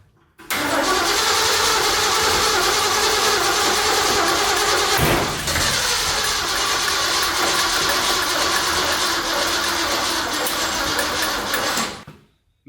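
A 1974 Ford F100 engine with a freshly rebuilt carburetor cranks over steadily for about eleven seconds, loud and close, in one continuous starter drone with a brief dip midway and no talking.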